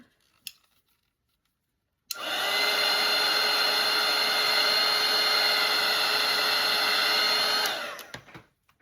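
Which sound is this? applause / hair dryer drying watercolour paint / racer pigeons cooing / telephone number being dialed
hair dryer drying watercolour paint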